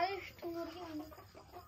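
Desi chickens clucking on a poultry farm, several birds making quiet, uneven calls at middle distance with faint background noise.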